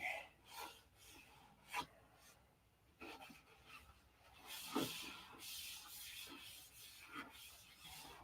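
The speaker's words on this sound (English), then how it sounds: "I'm going to have to sand that." Sandpaper rasps against the rough plastic surface of a P-47 model build in faint, intermittent rubbing strokes with short pauses between them.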